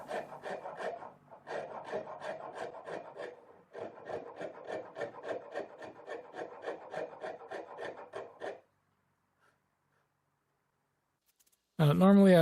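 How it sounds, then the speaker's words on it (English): A round file rasps steadily as it carves the volute of a custom guitar neck, roughly twenty brisk, close strokes in quick rhythm with brief pauses, then silence before a voice starts speaking at the end. "I'm going in with a round file and carving in the volute."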